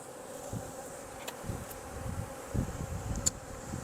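A honeybee swarm being hived into a hive box of empty frames, giving a faint, steady buzzing hum with a few small knocks and bumps, all fairly quiet throughout.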